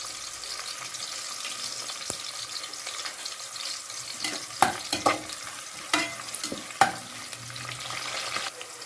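Onions and curry leaves frying in oil in a pan for dum biryani, a soft, steady sizzle with sharper stirring scrapes and clinks clustered in the second half.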